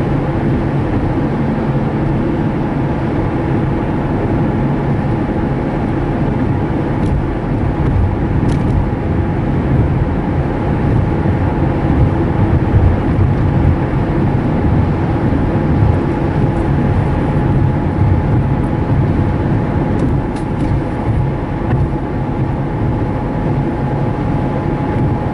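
Road traffic heard from inside a moving car on a high-speed road: a constant loud rumble of engine, tyres and passing vehicles with no break, and no voices.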